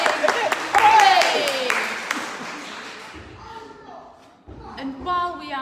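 A church congregation at an all-age worship service claps after singing happy birthday, a dense burst of applause that fades out after a few seconds, with a voice talking over and after it.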